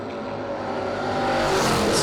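A 1972 Plymouth Duster drag car with a 440 Mopar engine roars loudly at a drag strip, its engine noise rising steadily over two seconds with no voices.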